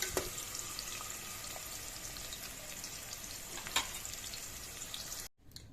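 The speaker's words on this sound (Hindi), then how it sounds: "इसमें एक डली प्याज डीप फ्राई करना है।" Onion deep frying in about two tablespoons of hot oil for a chicken gravy masala curry, giving a steady, close sizzle and crackle with a few sharper pops before cutting off near the end.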